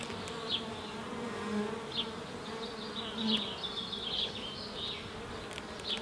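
Honey bees buzz steadily in an open hive around a three-year-old queen, a continuous close drone with faint swells and no voices.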